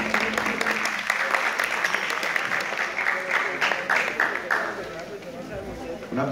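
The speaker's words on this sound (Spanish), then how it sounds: "Un fuerte aplauso, por favor." An audience at a Mother's Day presentation by vocational music students claps steadily in a dense round of applause that gradually thins out toward the end, with some chatter underneath.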